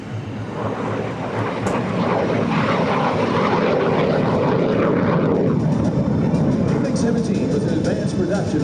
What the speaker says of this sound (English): The MiG-17, a high subsonic fighter produced by the Soviet Union.